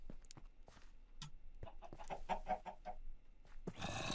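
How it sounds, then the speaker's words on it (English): Chickens cluck in a video game, a string of short, soft clucks and squawks that come close together at low volume, then a harsher burst of noise at the end. "And chickens are following us."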